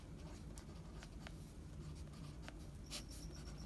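Chalk or marker scratching on a board during a Hindi physics lecture on electric potential of a point charge, heard as faint intermittent strokes and taps over a steady low room hum, with no talking.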